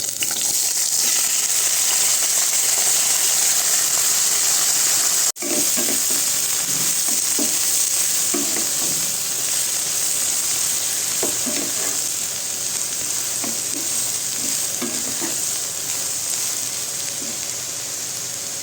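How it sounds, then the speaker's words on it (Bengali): Eggplant pieces fry in oil for a Bengali neem-and-eggplant dish, a dense, even sizzle like rain on a surface, with a sharp knock partway and faint stirring scrapes after, no talking. "তেল দিয়ে বেগুনটা দিয়ে"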